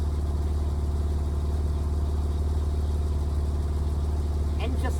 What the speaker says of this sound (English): You hear that twin turbo engine